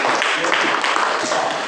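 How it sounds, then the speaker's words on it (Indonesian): A classroom audience applauding in a steady, dense patter of many hands clapping close by, sustained throughout. "tepuk tangan untuk"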